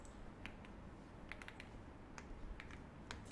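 Alt and Enter keys are pressed on a computer keyboard during spreadsheet work, a quiet scattering of sharp plastic clicks in small irregular clusters over faint room hiss.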